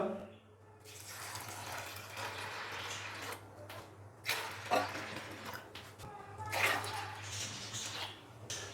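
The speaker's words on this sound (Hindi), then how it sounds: "3 लीटर के करीब अभी मैं इसके अंदर पानी डाल दूंगा" Water pours from a tap into a cooking pot holding lentils, about three liters for a chicken haleem, in several separate surging bursts that stop and restart, close and fairly quiet, with no talk over it.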